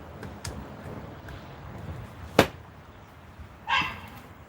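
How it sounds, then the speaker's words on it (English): A dog barks a few scattered times, one sharp near bark standing out over a quiet room murmur, with a whimpering yip near the end. "Oh, the doggy."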